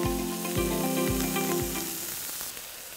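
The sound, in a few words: carrots frying in a pan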